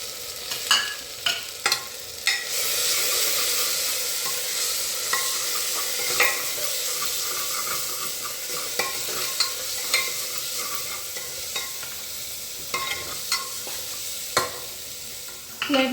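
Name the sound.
spices sautéing in pan for vatana batata bhat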